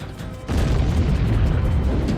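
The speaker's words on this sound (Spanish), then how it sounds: "La bomba, que se probó aquí hace 70 años, convirtió la noche en día" A deep, sustained rumbling roar of a massive atomic bomb test explosion, loud and low, swelling suddenly and continuing without break.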